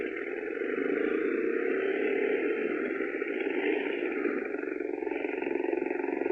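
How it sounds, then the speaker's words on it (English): A boat engine in a 1951 radio spy drama drones with a steady, even mechanical hum that holds at a constant level for several seconds. No one speaks over it. "Listen to the boat engine."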